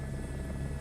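A helicopter lifting off in a VR flight simulator game gives a steady, loud rotor and engine drone that holds evenly for under a second.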